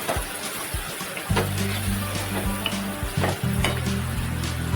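Turmeric, garam masala and chili powder sizzle loudly in a pan as they are stirred for a moong dal dish, a dense close frying hiss with repeated stirring scrapes and a steady low hum beneath.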